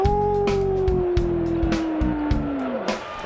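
Wolf howl effect for a Minnesota Timberwolves basketball team intro: two long, steady, slightly falling tonal howls held for about three seconds, loud over a busy rhythmic backdrop of music and crowd-like noise.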